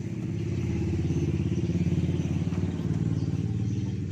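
A fuel-injected Yamaha motorcycle engine runs at a steady idle nearby, a low even pulsing thrum with a faint mechanical clatter and no voices.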